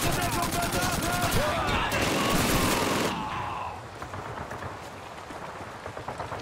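Heavy battlefield gunfire in Call of Duty 2, dense rapid machine-gun bursts that are loud at first, then thin into spaced, sharp shots.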